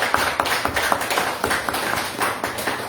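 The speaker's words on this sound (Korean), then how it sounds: "우리 어른들도 학생들 귀한 시간 되라고 축복 박수." Hands clap in a church gathering as adults offer blessing applause for students before a summer retreat, a fairly close, uneven patter of individual claps with distinct sharp strikes rather than a dense roar.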